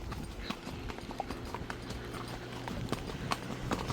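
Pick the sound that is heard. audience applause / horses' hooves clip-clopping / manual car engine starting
horses' hooves clip-clopping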